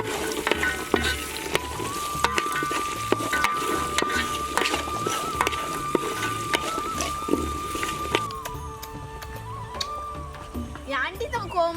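Onions fry with garlic in hot oil for a bitter gourd tamarind curry. A steady close sizzle with light stirring clicks runs under talk, then thins out near the end.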